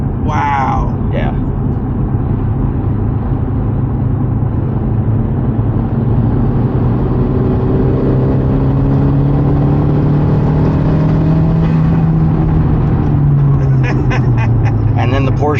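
The big turbo Audi B5 car's engine accelerates hard, with a loud droning pitch that climbs and then falls through the gears, heard from inside the car with voices talking over it.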